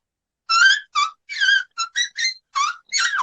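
A person imitates a high-pitched whistle with a series of eight short, separate whistled bursts, some rising or falling, in a quiet setting.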